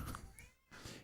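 A cat meowing close by, two quick mews separated by a short pause, faint and with no voices.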